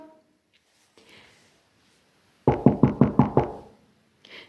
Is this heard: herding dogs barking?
no